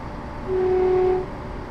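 A ScotRail Class 170 train in a Train Simulator game sounds a single steady horn note for under a second over a low rumble while approaching Edinburgh Waverley.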